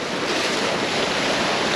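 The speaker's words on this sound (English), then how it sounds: "You can tell just by walking to here how much stronger the waves are." Strong ocean waves surge and crash on a stormy coast while wind rushes past, a dense, loud, unbroken wash of surf noise filling the whole moment with no voices.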